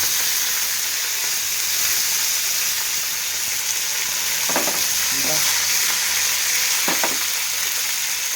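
Mustard seeds and cumin crackle and splutter in hot oil with a steady bright sizzle, broken by a few louder pops and stirring scrapes near the middle and end.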